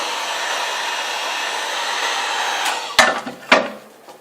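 A heat gun blows a steady, loud whirring rush while warming a sheet of Worbla thermoplastic, then cuts off and is followed by a couple of sharp knocks close by.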